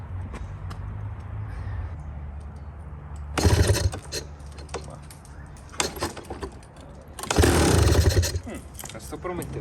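A KTM 250 GS motorcycle is kicked over, with two loud bursts of engine cranking and sputtering a few seconds apart, amid clanking, workshop handling noise and a steady low hum.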